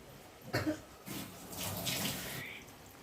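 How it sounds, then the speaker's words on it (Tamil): Water splashes and pours into a cooking pot of kuzhambu in a short burst, then a steady wash of running water continues for a couple of seconds, fairly close. "கடைசியாக கொஞ்சமாக தண்ணி சேர்த்து இதை ஒரு 10 நிமிஷம் மூடி போட்டு வேக விட்டிங்கன்னா"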